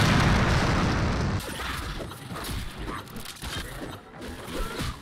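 Dynamite blast in a video game: a loud burst at the start with dense noise, then a rumbling, crackling tail of scattered debris and clatter that fades over a few seconds.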